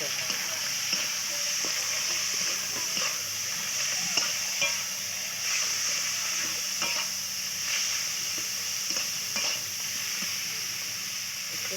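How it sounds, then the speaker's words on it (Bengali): Prawns frying in oil with onion and chili, a continuous close sizzle with intermittent stirring scrapes and taps throughout. "তেল দিয়ে দিল চিংড়ি দিয়ে দিল লঙ্কা দিয়ে দিল পেঁয়াজ দিয়ে দিল"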